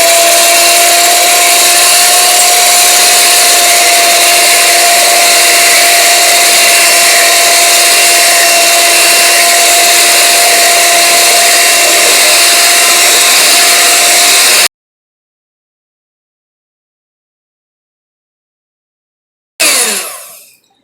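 An electric hand mixer whirs steadily as it beats meringue mixture in a home kitchen, a loud, even motor whine lasting about fifteen seconds before it stops dead, then starts again briefly just before the end.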